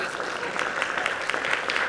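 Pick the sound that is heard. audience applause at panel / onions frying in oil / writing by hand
audience applause at panel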